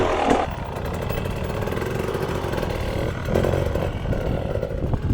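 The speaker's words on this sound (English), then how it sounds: "You can hear here it's just revs above idle and an instant clutch release" A motorcycle engine revs just above idle, then the clutch snaps out instantly, giving a steady mid-pitched engine drone with a brief surge near the start and another near the end.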